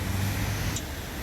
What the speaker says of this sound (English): I'm next to a very busy road.